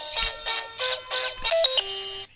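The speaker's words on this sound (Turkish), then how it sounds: "Bir de buradan müzik çalıyor değil mi Emre?" A battery-powered alphabet toy plays a short electronic tune of bright, beeping synthesized notes in quick phrases, close and clear, then stops abruptly, with no talking.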